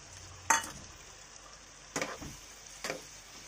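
Ground masala paste for wedding-party-style aloo gobhi fries in a pan, a low steady sizzle broken by three distinct scraping stirs of a spoon against the metal.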